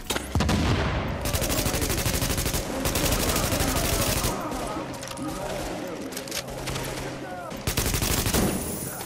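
Rapid bursts of gunfire from The Division video game, loud and repeated in clustered volleys of automatic fire, with a player talking over the shooting.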